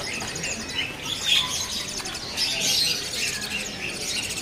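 Dark loper canaries kept in cages for sale twitter and trill steadily, several birds overlapping at moderate loudness without any talk.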